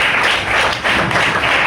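An indoor audience at a company's 25th-anniversary business presentation in Panipat, Haryana, claps loudly as one, a continuous roar of applause with no speech over it.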